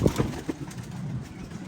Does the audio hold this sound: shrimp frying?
no